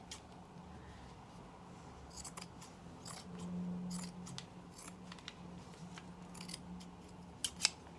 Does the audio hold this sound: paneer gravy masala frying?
no